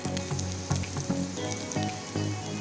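Rice frying in a spoonful of ghee in a kadai set on a tawa, a dense steady sizzle with scattered crackles and a few soft clinks, close and continuous.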